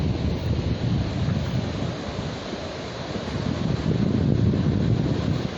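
Strong west wind blows steadily and loudly, buffeting the microphone with a dense, roaring rush that swells slightly toward the end.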